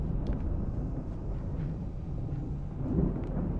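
Deep, sustained rumble of in-game thunder from the video game Alan Wake Remastered, rolling steadily with a swell near the end, loud and low with no speech over it.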